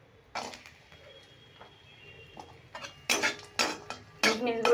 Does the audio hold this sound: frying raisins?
yes